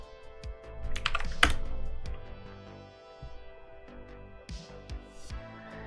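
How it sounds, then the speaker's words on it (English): Rapid typing on a computer keyboard, close and clear, with irregular bursts of clacking keystrokes and brief pauses, no voices. "I just have to start typing Ultima, and they know what I want."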